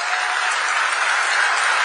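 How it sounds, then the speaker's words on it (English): An audience at the FIFA 2026 World Cup draw ceremony at the Kennedy Center claps loudly in a dense, continuous burst of applause that fills the hall. "Please, a big round of applause for the President of the United States of America, Mr. Donald J. Trump,"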